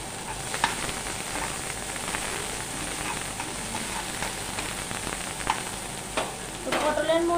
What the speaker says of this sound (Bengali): পটল ভেজে যে তেলটা বেরিয়েছিল সেই তেলে আমি পেঁয়াজ কুচিটা দিয়ে দিচ্ছি